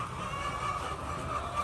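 Hens clucking inside a poultry shed, a steady faint chorus of bird calls over a constant background hum, with no talking.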